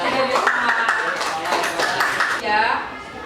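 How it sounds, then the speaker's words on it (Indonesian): A class claps for group 3 during a school lesson: a burst of many hands, fairly close and steady for about three seconds, with a voice talking over it. "Tepuk tangan dong untuk kelompok 3"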